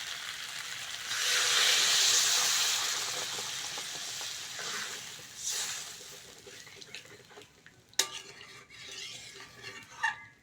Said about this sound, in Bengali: আলুটা ভালো করে কষে নিয়েছি। এবার জল দিয়ে দেবো।